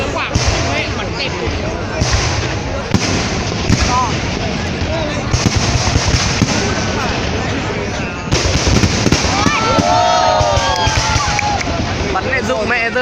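Fireworks burst over Hoan Kiem Lake in Hanoi for the 2018 Lunar New Year celebration, a dense run of booms and crackling pops with whistling rising shells, heard amid a large crowd with people talking nearby.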